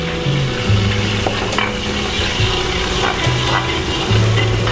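Cumin seeds and chopped garlic frying in hot oil, a loud, continuous close-up sizzle with crackling bursts and faint scraping, with no voices.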